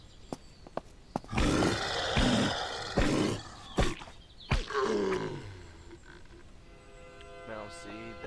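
Zombie in the survival game SurrounDead lets out a series of low, gravelly roars and growls, punctuated by sharp thuds and clicks, with a voice briefly under the roaring.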